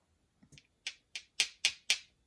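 Ceramic salt and pepper shakers tapped together, a few soft knocks followed by five sharp, bright clinks in an even rhythm, close and alone.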